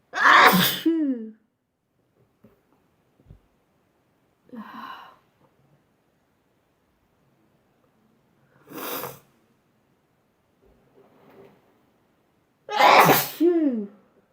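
Four sneezes spread over about fourteen seconds, the first and last loud and forceful, the middle two softer and shorter, with quiet breathing between them.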